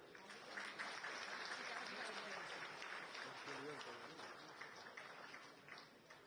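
An audience applauds at an event for the World Para Athletics Championship in Delhi, sustained dense clapping that continues for several seconds with a voice speaking over it.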